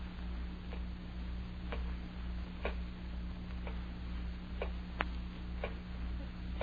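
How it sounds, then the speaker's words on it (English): A clock in an old-time radio horror drama ticks at a slow, irregular pace, with faint clicks sitting over a steady low hum and background hiss; nobody speaks. "Terrible clock."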